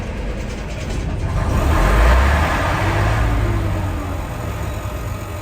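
A bus engine cranks and catches, swells into a rough rumble for a couple of seconds, then sags and dies away, loud and close with no talking.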